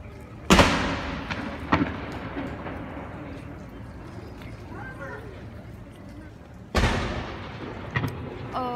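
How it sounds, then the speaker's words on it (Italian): Loud booming cannon fire near London Bridge on a rainy day, two big blasts a few seconds apart with lesser thuds between, over steady outdoor ambience and some talk. "stanno tirando i cannoni, qualcosa del genere"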